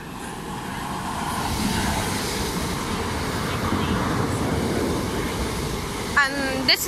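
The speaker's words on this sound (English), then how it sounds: "This is my train home." Train arriving at Clapham Junction station, a rumbling rolling roar from a nearby platform that holds steady, with voices and a couple of brief sharp squeals near the end.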